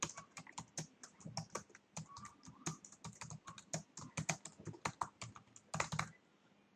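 Rapid typing on a computer keyboard, close and clear, with a steady run of crisp key clicks that stops abruptly near the end.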